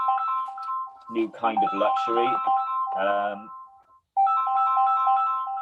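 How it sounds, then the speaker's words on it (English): A mobile phone ringtone plays a repeating melodic tune during a virtual travel event, sounding before and after someone speaks over it, close and fairly loud. "sorry, I thought I'd muted my phone"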